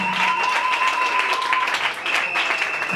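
Church congregation applauding loudly at a Sunday service, a dense, sustained crowd clapping that fills the whole moment, with faint voices mixed underneath.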